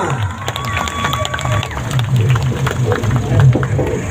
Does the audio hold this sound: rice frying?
no